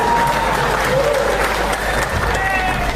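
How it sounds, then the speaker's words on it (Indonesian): Applause from an audience at an Indonesian religious gathering, dense and steady for the whole stretch, with crowd noise and voices mixed in underneath. "Tepuk tangan."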